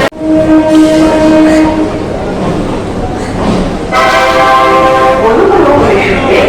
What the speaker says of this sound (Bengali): এখন আমাদের ট্রেন তার সোর্স শিয়ালদা থেকে রওনা দিল